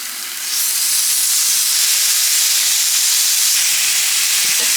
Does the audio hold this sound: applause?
no